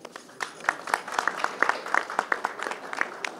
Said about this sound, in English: He deserves claps.